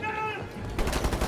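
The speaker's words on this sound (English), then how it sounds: "I love this shotgun" A shotgun fires in the shooter game Wolfenstein: The New Order, a loud, dense burst of gunfire near the end that follows a brief tonal sound.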